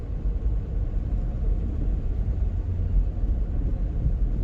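A car drives along snowy roads in deep polar-vortex cold, giving a steady, loud, low interior rumble of engine and road noise that continues without a break and without talk.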